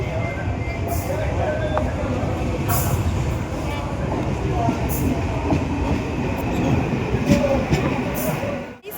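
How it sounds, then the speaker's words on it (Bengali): A train rumbles into a station with a heavy, steady low roar and faint rail clatter, growing slightly before easing off at the end. "তো গাইস এখন চলে এলো আমার ট্রেন"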